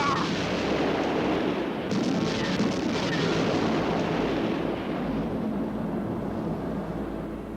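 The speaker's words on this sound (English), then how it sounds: "God, they were really big explosions." Big explosions on a burning munitions ship: continuous loud, dense rumbling blasts and crackling detonations, sustained throughout with heavy low-end booms and no talk.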